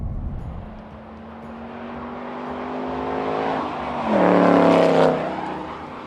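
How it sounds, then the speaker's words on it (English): A 2018 Ford Mustang GT Performance Package 1 with its V8 engine climbs through the revs in a rising roar, shifts, then surges louder at close range as it accelerates past, with no talk. "This thing makes sounds that very few other cars on the planet"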